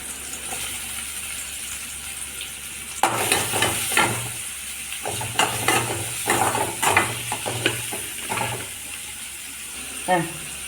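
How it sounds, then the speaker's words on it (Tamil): Onion for goat liver fry goes into a pan and is stirred in hot oil, with scraping strokes over sizzling after a quiet start and the speaker's voice heard faintly in the background. "போட்டுக்கிறேன் வெங்காயம்"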